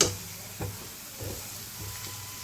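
Chopped onion and green chilies frying in a pan, a faint steady sizzle with a few soft stirring scrapes at regular intervals.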